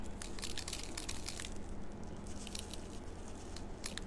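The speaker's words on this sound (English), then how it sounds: "So it won't hold as much rice as I thought it would. All right, let's pour a little bit more in there." Dry rice pours and rattles into a handmade fabric heating bag, a soft, steady granular patter of tiny crunchy ticks lasting several seconds, close and quiet.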